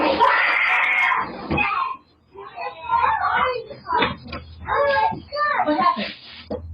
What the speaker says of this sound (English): a young boy in an adjacent room suddenly screams